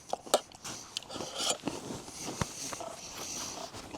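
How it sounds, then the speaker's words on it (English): Crispy biscuits bitten and chewed outdoors on a snowshoeing trip, a series of close, sharp crunches spaced irregularly, then softer chewing sounds, with no speech. "The only thing is the biscuits are crispy."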